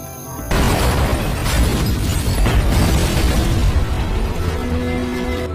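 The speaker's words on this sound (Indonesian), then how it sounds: "ledakan pun terjadi." A gas-filled house explodes in an action film after a gas pipe is broken. A sudden loud boom gives way to a sustained roaring rumble with crackling debris that lasts several seconds.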